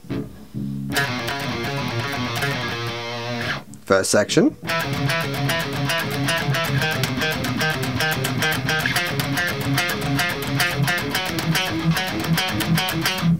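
Distorted electric guitar playing a bridge, dense driven riffing with fast picked notes and a short break near the start, loud and continuous, with a brief spoken word at the start.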